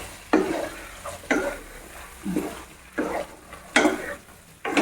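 Beef on the bone being stirred and mixed in a pan, with steady sizzling beneath periodic scraping strokes of a utensil, close and fairly loud, no talking.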